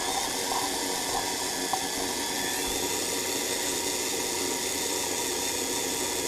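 An AFX Super II slot car with trued tires runs on a dyno, giving a steady, even high-pitched whir and hiss that holds constant throughout at close range with no talking.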